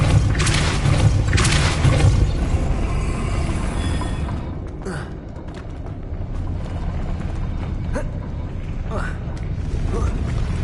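A Depulso force spell goes off in the Hogwarts Legacy video game: a heavy, rumbling boom and mechanical creaking at the start, then a quieter stretch with scattered thuds and clanks under a steady game background.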